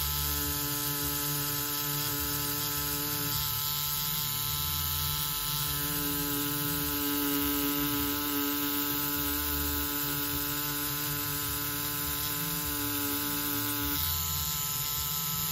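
A tattoo machine runs steadily while a beginner tattooist practises tracing lines, giving a continuous electric buzz with a hum underneath that stays even throughout and shifts slightly partway through.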